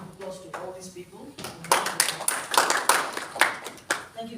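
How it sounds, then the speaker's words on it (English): A small group claps, scattered at first and then building into brief, lively applause nearby, while a voice speaks over the start. "Round of applause to all these people."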